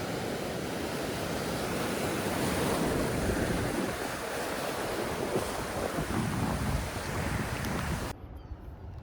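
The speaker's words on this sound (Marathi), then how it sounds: "लाटा बघू शकता कसल्या येतात मोठ्या." Large ocean waves crash and break onto a beach in a steady roaring wash, loud and close, with gusting wind across the microphone, the surf cutting out abruptly near the end.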